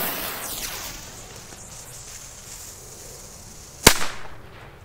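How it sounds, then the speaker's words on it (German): Firecrackers of the toilet-cracker kind with clay composition are set off outdoors, one sharp near bang with a short crackling tail late in the clip, after a steady hiss of background noise. "Und dann zünden wir mal ein paar weg."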